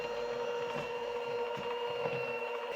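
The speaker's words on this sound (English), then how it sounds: "We're going to take an electric hand mixer. We're going to beat the butter and the sugar together until it's nice and light in color." An electric hand mixer beats butter and sugar for a coffee cake, giving a steady, close motor whir with a tonal hum and faint irregular rattles of beaters against the bowl.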